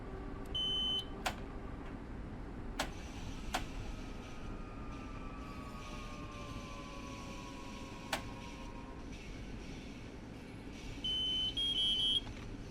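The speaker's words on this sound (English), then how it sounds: "All the beeps." Cab and station beeps in Train Sim World 4 on a Long Island Railroad commuter train: scattered short electronic bleeps and a gliding tone over a steady low rumble, with a brief buzzing double beep near the end.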